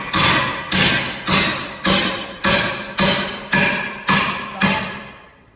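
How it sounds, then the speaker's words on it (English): Eight heavy metallic strikes drive a Halligan bar into a door in a steady rhythm, each a sharp thud with a ringing decay, loud and close. "I'm going to fully drive the Halligan bar to the crotch of the adze"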